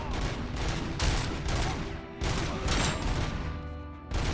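Rapid bursts of gunfire from RoboCop: Rogue City, heavy automatic shots repeating in several loud, close volleys separated by brief pauses.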